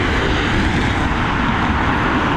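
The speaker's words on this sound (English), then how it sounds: "beautiful aircraft this Boeing 777 is" A Boeing 777 airliner landing at Dublin Airport, heard as a steady, loud broadband engine roar that holds constant throughout with no voices.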